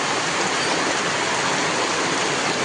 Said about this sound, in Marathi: केवढा पाऊस आला भाई